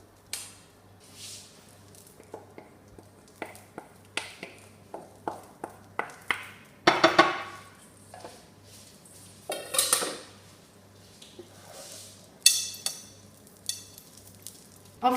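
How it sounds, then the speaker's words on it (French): Cooked rice being mixed with spices and chopped coriander in a large bowl, heard as repeated soft scraping and squishing strokes with occasional utensil clinks against the bowl, close and quiet over a faint background hum, with no talk. "il faut bien mélanger pour que votre riz s'imprègne bien"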